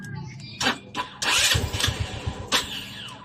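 An engine on an RFI 175 with a P0122 error code turns over and catches in short bursts, then a rough, uneven running rumble follows, with voices talking nearby.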